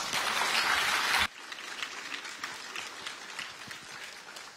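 A burst of dense audience applause at the FASD Baltic Conference in Lithuania, 2014, fills the hall loudly for about a second before cutting off abruptly, leaving a quieter room murmur behind.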